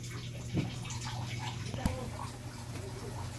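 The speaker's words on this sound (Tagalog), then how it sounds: "Lagyan natin ng tubig." Water poured into a pan over meat while cooking adobong sitaw, a soft splashing and sizzling wash with a couple of small knocks, heard under light kitchen background noise.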